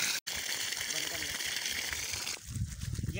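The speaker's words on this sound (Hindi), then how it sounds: "ये मोटर है जो पानी खींच के पूरे हमारे खेत वगैरह में पहुँचा।" Cold water gushes steadily from a farm motor pump feeding the fields, a dense continuous splashing rush heard close up, with a brief cut near the start and a shift to lower sloshing toward the end.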